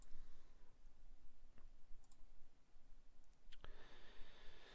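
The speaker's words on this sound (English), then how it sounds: "and just click on sign in." Mouse click on a sign-in button: a few faint, isolated sharp clicks over a quiet room background, spaced a second or so apart.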